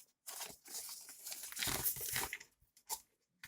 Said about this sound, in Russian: Давайте откроем пломбу